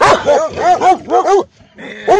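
A dog outside barks in quick repeated bursts of high, yelping barks, loud and close, with a brief pause before another bark starts.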